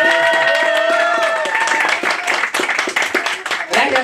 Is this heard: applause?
yes